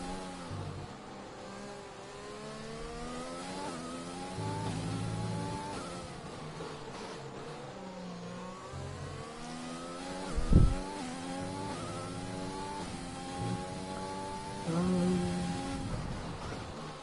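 A Formula 3 race car on soft tyres in a racing video game revs its engine through the gears again and again, whining up and dropping back. The engine tone is steady and moderately loud, with brief thumps and a short squeal.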